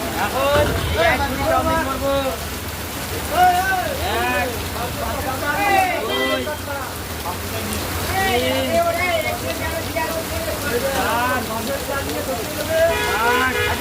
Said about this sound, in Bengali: তো খুব এখন বৃষ্টি হচ্ছে